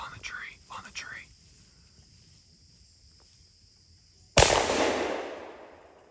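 A single loud, sharp gunshot rings out while hunting in rural South Central Kentucky, with a long echoing decay, after soft whispered talk and a faint steady insect drone.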